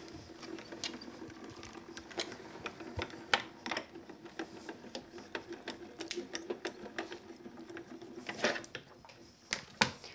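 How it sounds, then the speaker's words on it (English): A Grand Calibur die-cutting machine rolling card stock through, a steady mechanical whir and rattle of gears with irregular clicks and ratcheting taps, fairly quiet and close. "So let's run these through our grand caliber and cut them"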